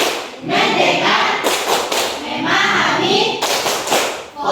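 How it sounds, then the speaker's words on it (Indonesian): Students in a classroom clap hands together in two or three loud, dense rounds of rhythmic clapping. Brief lulls and faint voices come between the rounds. "Tepuk tangan, fokus."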